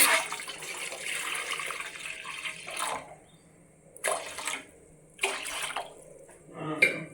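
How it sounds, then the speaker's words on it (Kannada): Water is poured into a pressure cooker holding hill gooseberries for boiling, a steady close splashing stream broken by a few short pauses and fresh pours. "ಸ್ವಲ್ಪ ನೀರು ಹಾಕ್ಕೊಂಬಿಡೋಣ."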